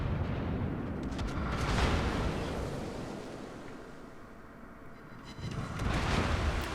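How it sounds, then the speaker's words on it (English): Italian cruiser Montecuccoli fires a gun salvo in World of Warships, heard as a broad, booming roar that swells, fades into a rumbling wash, and then surges again. "it was a good salvo"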